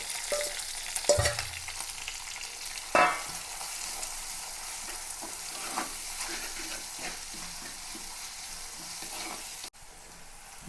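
Crushed onion, garlic, ginger and green chilies sizzle steadily in hot oil in a pan, with a couple of sharp clatters early on and a continuous close frying hiss throughout.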